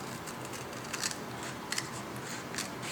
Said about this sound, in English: So we'll just take scissors and